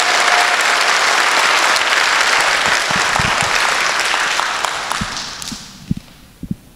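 A loud, dense burst of audience applause at a book talk event in New York rolls on steadily, then thins out into a few scattered final claps and fades.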